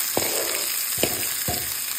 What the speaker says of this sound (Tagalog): Painit na tayo ng matika. Lagyan na natin yung luya. Lagyan na rin natin yung sibuyas.